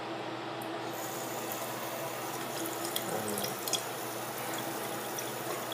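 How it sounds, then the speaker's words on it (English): Water droplets fall onto a GoPro housing in a quiet setting, giving a soft continuous trickle with a few faint taps and no voices. "I'm dripping some water droplets on"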